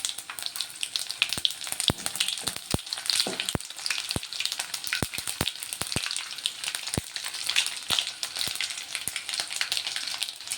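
Cumin, mustard seeds and onions hit hot oil and sizzle, a steady close-up hiss dotted with sharp crackles and pops from the seeds, with no voices.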